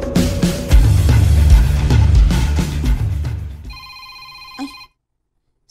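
A telephone rings with an incoming call: repeated electronic trills sound over a loud, busy background that cuts out, leaving the ringing briefly alone before silence.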